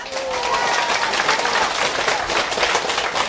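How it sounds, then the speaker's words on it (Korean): A crowd at a political speech breaks into dense, sustained applause, a loud, even roar of many hands clapping at once, with no talking. "박수!"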